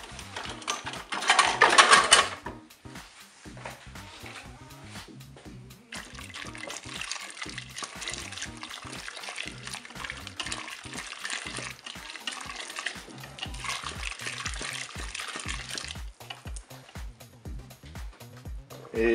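A whisk stirs flour into turkey blanquette sauce inside a Cookeo multicooker, giving a steady, rapid scraping and sloshing rhythm close by for most of the stretch, opening with a brief louder burst.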